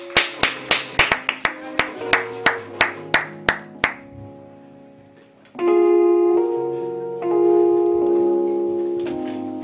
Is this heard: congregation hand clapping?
yes